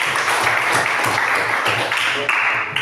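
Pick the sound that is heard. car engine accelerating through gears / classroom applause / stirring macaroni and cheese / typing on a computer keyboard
classroom applause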